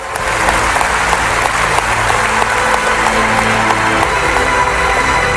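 Dense, sustained applause from an audience at a political speech fills the space, loud and continuous with scattered cheers and no talking over it.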